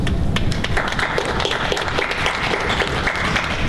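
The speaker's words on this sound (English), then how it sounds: "Applause there, led by one of the other candidates" Applause at a student union election debate, started by one of the candidates, rises as a loud, dense clatter of clapping from a room of students and continues steadily throughout.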